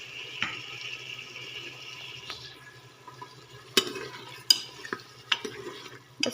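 Chicken sizzles in a pan with a faint hiss under the cooking. Water is poured in, and a spoon stirs and scrapes against the pan in sharp, irregular clinks. No one talks.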